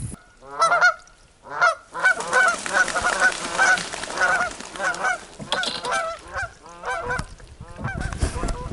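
A flock of geese honking continuously on Georgian Bay, many overlapping calls in rapid bursts, fairly close and loud throughout.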